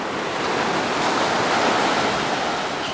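Waves wash steadily onto the Arabian Sea shore in Kerala, South India, a loud, continuous broadband surf roar with a little wind and no voices.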